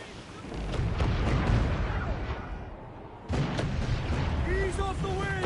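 Heavy ship cannons boom in a naval battle in Assassin's Creed 4 Black Flag, a dense rumbling barrage with a sharp new volley midway, while crew voices shout over the gunfire.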